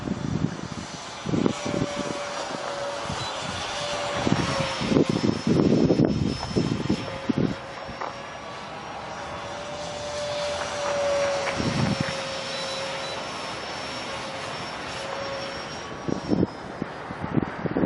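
Bat Wing RC jet's turbine engine runs with a loud, steady high whine that shifts slightly in pitch and holds for the full stretch, with a few thumps and bumps on top.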